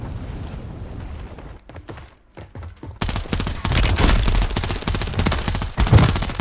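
Gunfire from the FJX Horus in Call of Duty Warzone 3: after a quieter stretch of scattered shots, loud, dense automatic bursts rattle continuously and close up through the second half.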